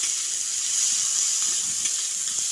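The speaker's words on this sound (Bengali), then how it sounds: "তারপর পেঁয়াজটাকে হালকা বাদামি করে ভেজে নেব।" Chopped onions sizzle and hiss steadily in hot oil in a pan, a close, even frying sound with faint crackles and no voices.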